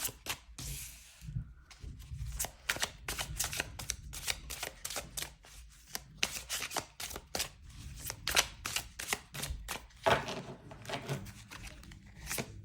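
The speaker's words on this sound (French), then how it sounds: "on termine par le tarot. Et je vais prendre aussi 2 cartes" Tarot cards are shuffled and handled close up, giving a fast run of crisp, papery flicks and slaps in bursts, quiet overall with no talking.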